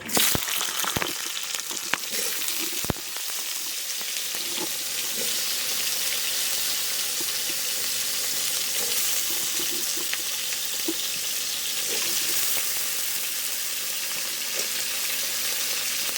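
Black cumin seeds sizzle in hot oil, opening with a few sharp pops and settling into a loud, continuous frying hiss.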